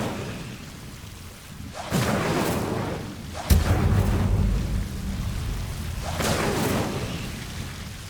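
An Incendio fire spell cast in the video game Hogwarts Legacy gives several loud, rumbling fiery bursts with a sharp crack in the middle, each swelling and fading against a low background roar.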